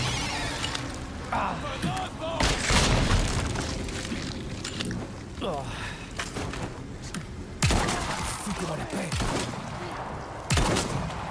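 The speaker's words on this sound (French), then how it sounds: "Boum. Explosion." An explosion in Resident Evil 4 on Berserker difficulty: a loud booming blast followed by a short burst of gunfire-like bangs, with a player talking over the game sounds.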